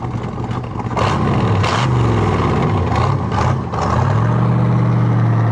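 A 1967 Chevrolet Corvette with a big-block engine driving past, a loud deep rumble building and swelling as the car nears, with a brief dip, then a steady roaring drone.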